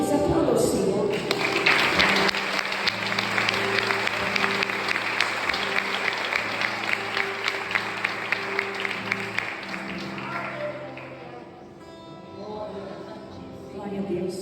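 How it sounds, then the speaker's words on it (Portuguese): A church congregation applauds the Lord during a communion service, sustained dense clapping over a steady organ or keyboard chord with voices in it, then dropping off as the music continues. "Aplauda o Senhor."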